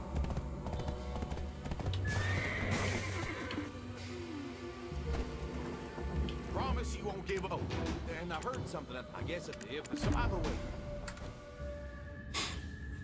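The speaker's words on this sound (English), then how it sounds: "She's so slow getting up on that horse." Horse hooves clip-clop in the Black Desert Online video game, a run of rhythmic taps with an occasional whinny, set among game music and effects while a person talks over the top.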